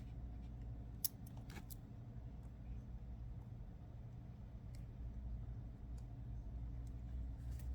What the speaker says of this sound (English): Trim that teeny bit off and tuck it in